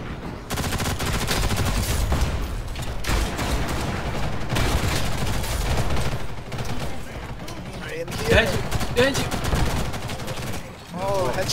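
MP5K submachine gun in Ghost in the Shell: First Assault firing loud rapid bursts close up, dense and continuous with brief pauses, mixed with other gunfire and battle noise.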